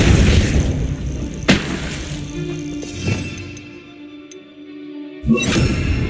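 Depulso force-push spell in Hogwarts Legacy, a sharp whooshing burst followed by rumbling impacts and a later second blast, mid-loud and alone without talk.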